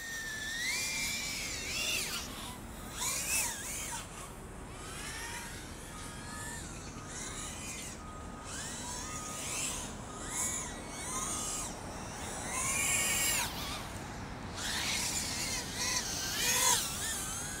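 A small 1104 7500kv brushless drone motor on a 3S battery whines at high pitch, spinning up and down in repeated sweeping bursts, fairly faint and without talk.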